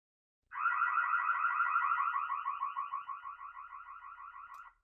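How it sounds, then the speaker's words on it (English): A loud warbling burglar alarm siren played through a Hikvision IP speaker sounds continuously for about four seconds, rapidly pulsing, then cuts off abruptly; no voices. "there's our burglar alarm one that I created earlier on"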